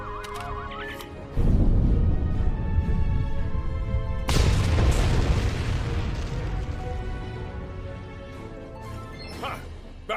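A loud explosion erupts in the space game Star Trek Online, a sudden booming blast followed by a second crashing burst and a long rumbling decay, with game music and effects around it.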